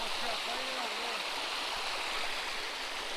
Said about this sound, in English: Right by this huge rock right next to the creek.